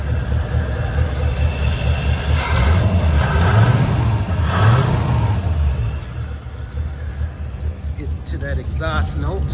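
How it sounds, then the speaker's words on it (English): A Wolf 303 V8 engine in a 1927 Ford Model T track car runs steadily with a throaty rumble, rising and falling in revs, under ongoing talk. "this is really nice running Wolf 303 V8"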